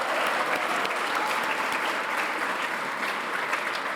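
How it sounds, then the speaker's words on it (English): Sustained applause from a large audience at a World Scout Education Congress, dense and even clapping throughout with no talk over it. "another big round of applause to all of you and the team for the success"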